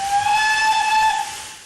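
A steam locomotive on the Bluebell heritage railway in Sussex gives a single sustained whistle, a clear, loud, steady tone lasting over a second before tailing off, with no voices.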